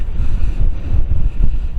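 Strong wind buffeting an outdoor microphone on an exposed headland near St Catherine's Oratory, a steady loud low roar with gusty swells throughout and no voices.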